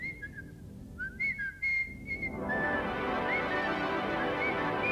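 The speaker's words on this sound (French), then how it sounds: "Alors, chevalier, siffle." A person whistles a run of short melodic notes in a fantasy labyrinth game show, the whistling clear and close at first, then fading under a rising wash of broadband noise.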